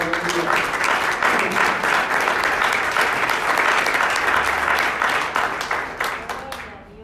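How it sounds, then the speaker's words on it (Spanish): A church congregation applauds during a sermon, sustained dense clapping that fills the room and gradually fades out toward the end. "Denle un aplauso al Señor"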